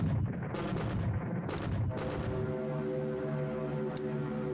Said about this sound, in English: Continuing to bomb those troops near Moresby.